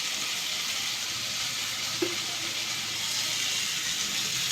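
Boiled dheki shak greens sizzle steadily in a hot pan, a constant close hiss of frying with no break, one small tap near the middle.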